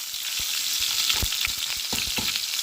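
Onions and curry leaves frying in hot oil for tomato rice give a steady, close bright sizzle with scattered crackling pops and occasional stirring scrapes, with no talking.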